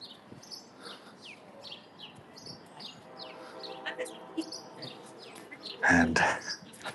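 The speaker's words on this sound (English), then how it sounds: "You hear the birds chirping away." Birds chirp and tweet outdoors in spring, a scatter of faint, far calls over a soft background, with one louder burst near the end.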